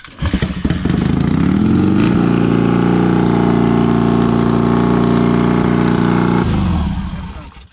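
A motorcycle engine starts and idles steadily with a loud, rumbling drone before cutting off, very close.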